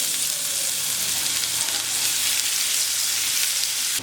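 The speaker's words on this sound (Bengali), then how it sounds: "একটা ফ্রাই প্যানে দিয়েছি পরিমাণ মতো তেল, দিচ্ছি পেঁয়াজ কুচি" Chopped onion sizzles in hot oil in a frying pan, a loud, steady crackling hiss that holds evenly for about four seconds before easing slightly at the end.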